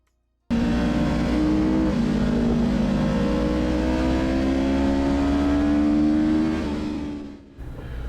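A racing motorcycle engine idles and revs steadily as it rolls up to a wet starting grid, loud and close throughout before cutting out briefly near the end.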